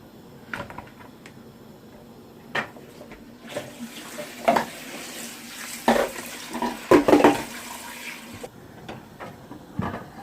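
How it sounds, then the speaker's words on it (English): Tap water runs into a pot while fish is prepared for boiling, a soft continuous hiss with a few clinks and knocks of cookware, close and moderately quiet, no talking. "put a little bit of water in the pot"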